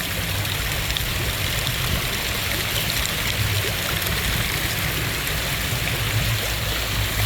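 Overflowing water fountains in Nassau, Bahamas make a constant, loud rushing splash like a stream or small waterfall, steady and close throughout.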